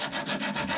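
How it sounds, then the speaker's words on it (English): A wooden longbow stave is rubbed by hand across sandpaper in quick back-and-forth strokes, a close, dry rasping about five strokes long. "So I start by just sanding it flat"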